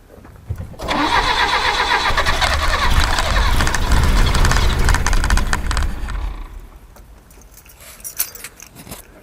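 A 1969 Datsun 521 pickup engine is started cold: it catches sharply and runs loud and rough for about five seconds, then falls back to a quieter idle with a few light clinks and jangles.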